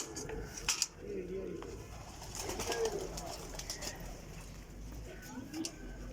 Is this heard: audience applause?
no